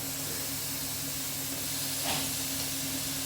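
Ground masala sizzling steadily in hot coconut oil while cooking a beef curry, a continuous moderate hiss with a faint low hum beneath and a brief flare of crackle near the end.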